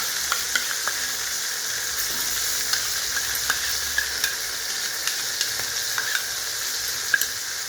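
A paste of coriander, cumin and dried red chilli with turmeric fries in hot oil in a pot, giving a continuous bright sizzle dotted with small crackles and pops, close and steady without any voices.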